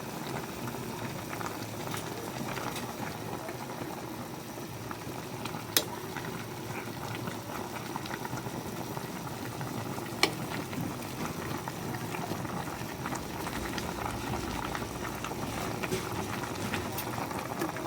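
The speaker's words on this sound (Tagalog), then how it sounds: "Okay, kumulo na siya." A pot of paksiw na tilapia with vegetables boils steadily, giving a continuous bubbling and simmering texture at moderate level for the whole stretch, with a couple of brief clinks and faint voices in the background.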